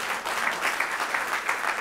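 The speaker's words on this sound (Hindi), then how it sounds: "जो ताली बजा रहे हैं" Audience applause at a staged Hindi theatre presentation, a steady dense clapping that runs continuously without a break, fairly loud and even throughout with no voices over it.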